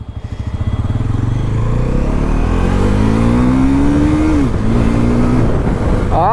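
A 2025 Bajaj Pulsar NS 400Z motorcycle accelerates up through the gears, its loud engine note rising in pitch, dipping briefly at a shift, then climbing again, heard close and continuous with no talking.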